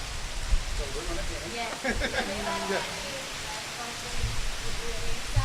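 Steady rain falls outdoors in New Orleans after Hurricane Ida, a broad hiss with bursts of wind and handling noise, while voices murmur faintly in the background.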